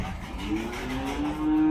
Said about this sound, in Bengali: হ্যাঁ, গরু আছে প্রচুর